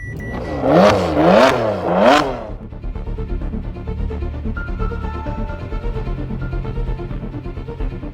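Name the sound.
engine knocking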